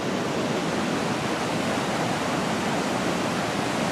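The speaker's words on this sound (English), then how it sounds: "That was Spring Camp Falls." Spring Camp Falls, a waterfall tumbling over big flat rocks, pours out a steady, loud broadband roar with no break and no voices over it.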